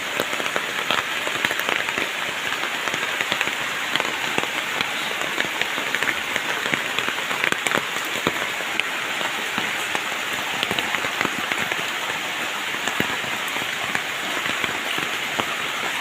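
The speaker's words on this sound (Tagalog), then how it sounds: "Hindi pa rin tumitigil ang ulan." Heavy rain pours steadily with a dense, hissing patter and scattered louder drops, constant throughout with no voices, during days of continuous rain flooding a yard.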